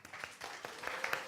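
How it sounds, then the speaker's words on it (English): An audience at a Unity Center talk gives a round of applause, soft and somewhat distant, made up of scattered hand claps that build slightly over a second. "round of applause."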